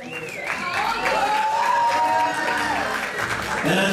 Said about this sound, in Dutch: geef u daar nog wat bij de vechters voor nog een dagelijks applaus